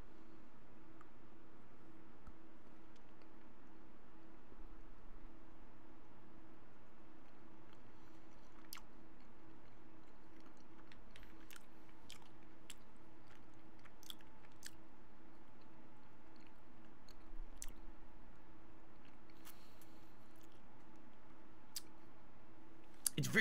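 A Mr. Beast milk chocolate bar is bitten and chewed close to the microphone, producing faint, sparse clicks and soft squishy mouth sounds over a quiet room hum.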